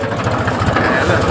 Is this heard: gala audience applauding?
no